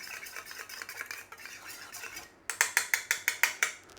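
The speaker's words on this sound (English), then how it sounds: "I have a couple of eggs here, which we're just going to give a light beating" Eggs are lightly beaten in a bowl with a whisk or fork, giving quick rhythmic scraping clicks, softer at first and then a sharper, louder run of about eight even strokes near the end.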